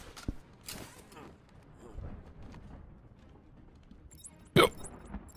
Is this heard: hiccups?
yes